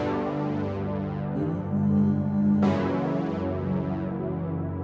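Sustained synth brass pad chords from the Brass Legion preset, thick and warm, with one chord change partway through and a brightening swell around the middle.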